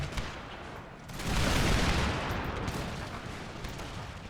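Musket volleys from regiments in Empire: Total War rattle out as a dense, distant fusillade, swelling after a second into a rolling burst of overlapping shots that slowly fades.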